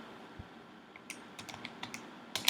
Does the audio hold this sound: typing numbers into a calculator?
yes